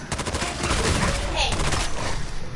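Rapid automatic gunfire in Fallout 4 rattles on continuously during a fight with a legendary super mutant, loud and dense, with a voice speaking over it.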